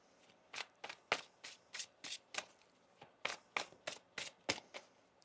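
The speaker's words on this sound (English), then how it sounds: "One more shuffle here." A deck of tarot cards being shuffled by hand, about a dozen crisp riffling bursts in an uneven rhythm, close and fairly quiet, with no talking.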